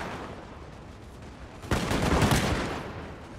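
Musket volley from guard infantry in the Napoleon Total War strategy game, heard as a sudden dense crackle of massed shots that swells and rolls for over a second before fading into battle ambience.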